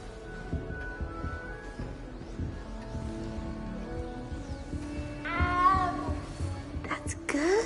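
A cat meowing in a Hogwarts video game, a few drawn-out meows rising near the end over a low, steady game background.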